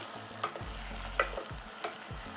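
Tomatoes with salt and pepper being stirred in a pan, a spoon scraping and tapping rhythmically over a gentle frying sizzle, close up and quiet.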